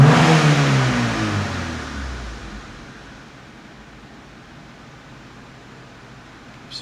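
A 1994 Honda Civic EX coupe engine, high mileage but running fine, revs loudly at the start and then settles toward a steady, quieter idle hum.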